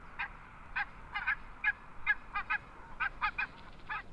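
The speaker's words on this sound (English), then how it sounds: "Several pairs of barnacle geese usually breed close to one another." Barnacle geese in Iceland give a series of short, repeated honks, sometimes doubled in quick succession, at a moderate distance over a faint low background hush.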